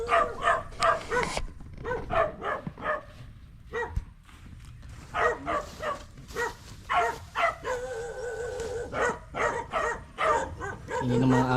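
Several dogs barking close by in repeated bursts of yips and bow-wows, with brief pauses and a whimper between volleys, lasting throughout.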